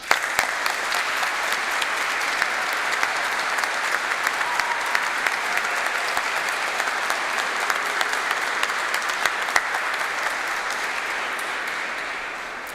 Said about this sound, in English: join me once again in applauding the success of our graduates